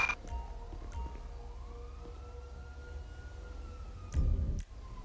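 An ambulance siren sounds in LSPDFR, a slowly rising and falling wail that is faint and distant, over a low rumbling vehicle engine, with a brief louder thump near the end.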